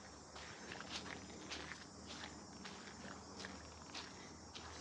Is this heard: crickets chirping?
yes